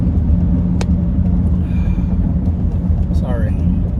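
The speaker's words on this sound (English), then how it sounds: "We're getting on a freeway driving 45 miles an hour." A car driving on a freeway at about 45 miles an hour, a constant loud low cabin rumble and road noise, with brief faint tonal sounds over it.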